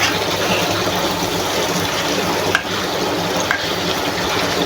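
Chicken shinwari keema sizzles steadily in a pan of oil, a dense, continuous frying hiss at close range with brief stirring scrapes and no voices.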